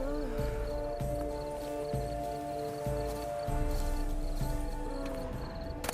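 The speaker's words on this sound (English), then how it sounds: "Should like that like any other damn horse." Clip-clop hooves and soft snorting of a horse in The Witcher 3, steady hoofbeats moving under ambient game music with a faint voice in the background.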